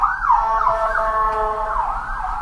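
An ambulance siren wails loudly and close, its rising and falling tone sweeping steadily as the vehicle passes, with no one talking over it.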